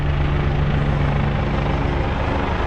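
Helicopter rotor and engine roar passing overhead, loud and steady throughout with a continuous low thump, no voices.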